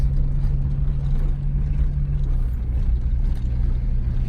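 A Jeep Wagoneer rescued from a scrapyard drives along with a loud, close engine rumble; about halfway through, the droning pitch drops as it shifts into second gear, then the engine hums on steadily.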